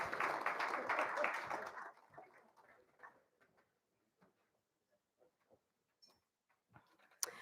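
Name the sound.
audience applause at a conference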